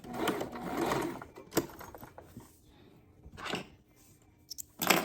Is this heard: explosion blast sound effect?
no